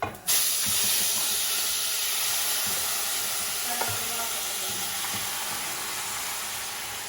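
Jamaican curry chicken stir-frying in a pot, a steady close sizzle and hiss of frying with occasional stirring clatter, continuing unbroken with no talk.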